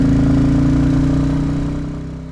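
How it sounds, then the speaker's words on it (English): A Royal Enfield Classic 350 single-cylinder motorcycle rides in fourth gear at about 40 mph in winter, its engine a steady, throbbing mid-pitched drone that eases off slightly toward the end, with no voices. "40 mph in fourth gear on my 350 Enfield is more than fast enough"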